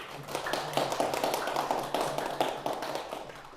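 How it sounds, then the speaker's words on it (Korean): A group of students in a secondary-school science interview prep class clap in a quick, uneven patter, fairly quiet, over a low room hum. "자, 다시 자, 박수!"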